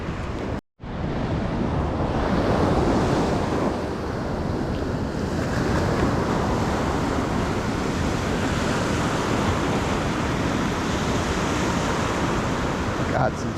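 Small surf washing onto Malibu beach, a continuous roar of low waves with wind buffeting the microphone, steady and fairly close throughout after a brief dropout at the start.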